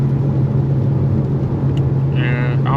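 Steady low engine drone of a BMW F90 M5 driving on wet roads in the rain, a constant rumble throughout with faint hiss, and someone briefly talking near the end.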